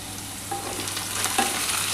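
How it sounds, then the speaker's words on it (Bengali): Potato pieces frying in oil in a pan, a continuous close sizzle with occasional stirring scrapes and no voices. "বন্ধুরা দেখো, আমার কিন্তু আলুটা কিন্তু আমি ভেজে নিচ্ছি।"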